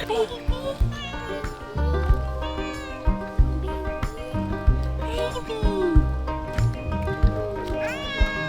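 Several cats meow and caterwaul repeatedly at close range in rising, drawn-out cries, with people talking in the background.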